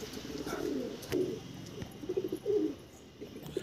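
A Kalsari female high-flying pigeon coos in several low, soft bursts at close range, with quiet pauses between the calls.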